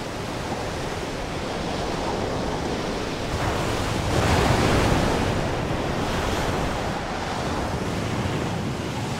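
Heavy storm surf on the Normandy coast pounds and roars continuously, a dense wash of breaking waves with gusting wind that swells louder midway, with no voices.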